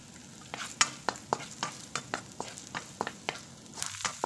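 Onion, ginger and garlic sauté in a pan for a pork and chicken adobo, a steady soft sizzle broken by regular sharp scrapes and taps of a stirring utensil, about two per second, close and clear with no talk.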